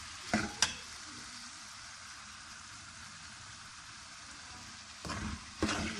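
Onions frying in a pan for Peshawari mutton karahi give a steady soft sizzle throughout, broken near the start and end by a few sharp scraping stirs of the spoon.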